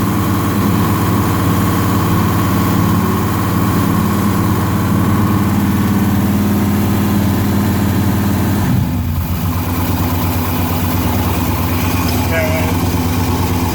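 A V8 fitted with Vortec heads and LS1/LS6 valve springs idles loudly and steadily up close, its low rumble continuous throughout, with a brief dip in the middle.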